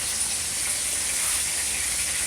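A pot of fish soup with vegetables boils hard, giving a steady, bright bubbling hiss that stays close and continuous throughout without speech.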